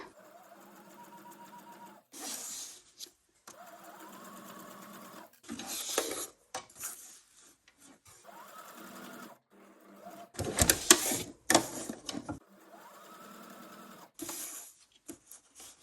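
A sewing machine stitching leaf shapes onto a junk journal pocket, rapid mechanical whirring bursts separated by pauses as the fabric is turned, close and clear.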